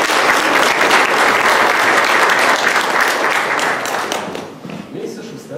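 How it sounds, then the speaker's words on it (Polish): At a political campaign event introducing PiS candidates in Toruń, an audience gives dense, sustained applause that holds steady and loud, then gradually fades out near the end. "Brawa dla pana Mariusza Kełmża"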